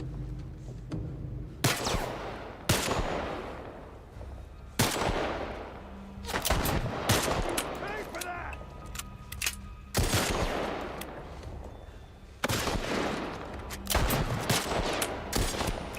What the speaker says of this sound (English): Sniper pistol. Wow, that's a powerful pistol.